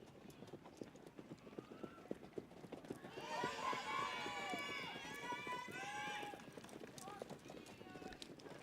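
Icelandic horses tölting at a Swedish championship final, with steady hoofbeats passing under crowd noise and an announcer's voice, while a louder burst of cheering or whistling swells in the middle.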